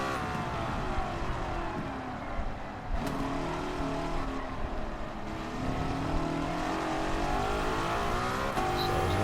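In a video game, the new 1955 Mercedes racing car's engine drones continuously at close range, pitch rising and falling through gear changes as it races laps, with no talking.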